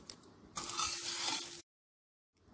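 Egg snack mixture stirred in a pan after salt is added, a scraping, sizzling burst of about one second that stops abruptly, followed by silence and a faint return of sound.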